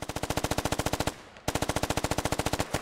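Rapid automatic gunfire in a squad-based military shooter game, two loud sustained bursts of evenly spaced shots separated by a short pause, close and dominant with no talk.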